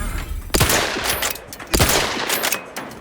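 Gunfire in The Outer Worlds 2: two sharp, loud close shots a little over a second apart, each trailing into rumbling noise, with scattered smaller bangs between them.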